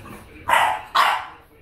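A French bulldog barks at a stuffed animal: two sharp, loud barks close by, spaced about half a second apart, with quiet room tone around them.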